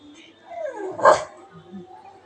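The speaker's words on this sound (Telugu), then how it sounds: "మా కుక్క పిల్ల అసలు అన్నం పెట్టనివ్వదు పాలు కూడా పెట్టనివ్వదండి పెళ్లి పిల్లలకి ఎలా అరిసేస్తుందో చూడండి" A puppy barks and yaps sharply near the mic, with one loud peak in the middle and softer whimpers around it, while people talk in the background.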